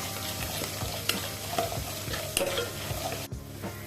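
Ten to fifteen garlic cloves frying lightly in oil on a stove: steady close sizzle with scattered pops and spatula scrapes, brief and even in loudness.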